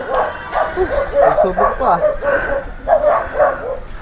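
A small Chihuahua yaps and whimpers in quick, high bursts close by, mixed with people talking over it.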